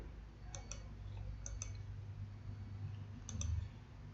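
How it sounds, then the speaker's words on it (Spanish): A computer mouse clicks in three quick double taps spaced about a second apart, soft and close over a low background hum with no talk. "hago un clic"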